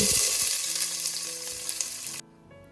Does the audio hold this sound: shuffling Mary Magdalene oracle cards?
no